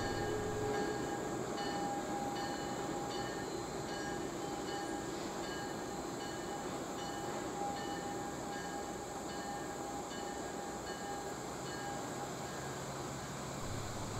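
A Tennessee Valley Railroad Museum train pulled by locomotive 4501 rolls along the rails in a steady, continuous rumble with faint ringing tones on top, heard from a moderate distance with no voices.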